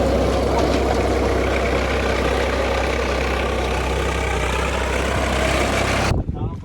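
An old-model Swaraj 855 FE tractor engine runs at a steady, loud, close drone for about six seconds, then cuts off abruptly.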